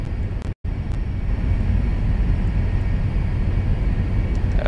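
Cessna Citation 500 jet engines in the X-Plane 11 flight simulator on a night approach to San Juan, Puerto Rico: a steady, loud cabin rumble and whine that continues without change, broken only by a split-second dropout near the start.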